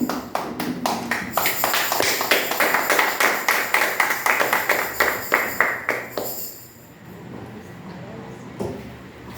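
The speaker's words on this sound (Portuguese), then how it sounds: "Se você puder aplaudir o Senhor, vai ser bonito." A church congregation claps in praise during a service; loud, rhythmic unison claps in a steady beat for about six seconds, then stopping abruptly and leaving a quieter room with faint scattered noise.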